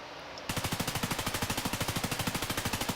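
Sustained full-auto gunfire from a weapon in the video game Escape from Tarkov, a rapid, even stream of loud, close shots with a steady rhythm that begins abruptly after a brief quiet moment.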